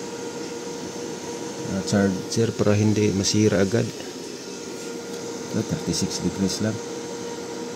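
A small blower fan cooling a PowMr POW-Keeper 1240 solar charge controller gives a steady whirring hum throughout, close by, while someone talks over it.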